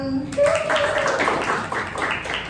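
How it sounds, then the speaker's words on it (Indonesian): A classroom of students breaks into clapping after a short spoken cue, a dense burst of hand claps that holds steady and fairly close for about two seconds. "Baiklah, kita kasih tepuk tangan."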